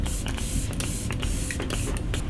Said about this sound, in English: I'm gonna do some setting spray.